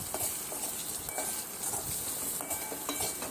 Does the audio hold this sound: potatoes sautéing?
yes